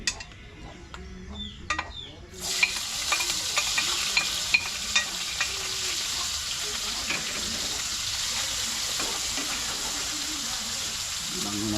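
Onion, spring onion, sliced tomato and garlic hit hot oil in a pan and break into a loud, steady sizzle that holds to the end, with a few utensil clinks and stirring scrapes after a quieter opening.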